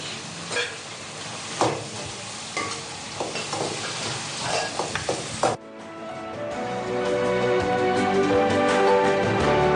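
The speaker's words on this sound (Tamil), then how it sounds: "காய்கறிகளையும் போட்டு அதுலேயே கொஞ்ச நேரம் வதக்கணும்" Vegetables being sautéed in a pan, with rhythmic scraping and tapping of a spoon over a sizzle, then a sudden cut to a steadier, louder, more tonal frying hiss.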